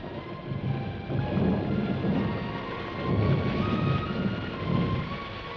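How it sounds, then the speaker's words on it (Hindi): Steady heavy rain pours down alone while low thunder rumbles roll through in slow repeated swells, the downpour hissing continuously beneath them. "बारिश शुरू हो गई।"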